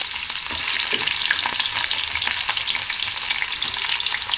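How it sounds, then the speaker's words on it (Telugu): Onions and green chillies hit hot oil already crackling with tempering seeds for an egg-tomato curry, giving a loud, steady, close sizzle and fry with no speech. "ఇప్పుడు ఉల్లిపాయలు, పచ్చిమిరపకాయలు వేద్దాం."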